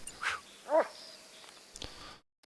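A hunting dog named Gunner in the video game Call of the Wild, on the Mississippi Acres map, gives a few quiet barks and yips with a brief whimper, separated by short pauses.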